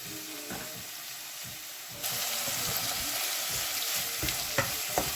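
Onions fry and sizzle in a pan while being prepared for an oxtail dish, a steady close hiss with a few scraping stirs, louder after a short moment, and no talking.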